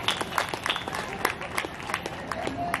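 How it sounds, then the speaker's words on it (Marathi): At a Haldi-Kunku gathering for the Sankranti festival, a crowd gives scattered applause for Kardile saheb and his family: separate sharp claps landing irregularly over a quiet room with a faint murmur of voices. "कर्डिले साहेबांसाठी आणि परिवारासाठी जोरात टाळ्या झाल्या पाहिजे"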